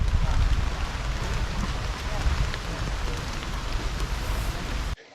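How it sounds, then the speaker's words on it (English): Steady rain falls at a campsite in Samuel de Champlain Provincial Park, a loud, even wash of patter that continues unbroken until it cuts off abruptly near the end. "Here we are, raining again"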